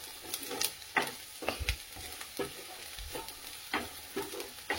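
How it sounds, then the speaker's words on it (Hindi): Onion frying in a pan for cabbage bhaji gives off a close, steady sizzle. Regular scraping stirs of a spoon against the pan cut through it in an uneven rhythm, with no speech. "अच्छा, तो पियाव जालो फ्राय"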